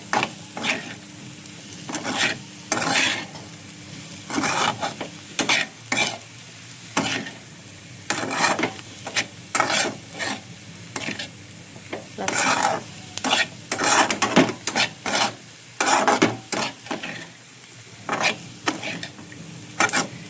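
Ground paste slowly stirred into oil in a pan for potato fry, repeated scraping spoon strokes in an uneven rhythm over a soft sizzle, close and clear, with no voices.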